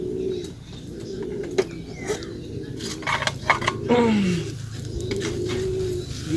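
Pigeons coo in a loft with soft, low, rolling calls that repeat over several seconds. The birds sound close, over a constant murmur of room and bird noise.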